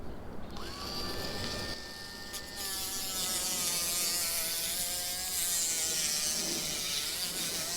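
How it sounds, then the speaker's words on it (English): A Dremel with a sanding wheel carves the plastic interior of an RC4WD Trail Finder 3 truck, giving a close, steady high-pitched whir with a grinding edge that rises in pitch as the tool spins up. "he's sanding it with the Dremel right now with the bit like this, the sand wheel"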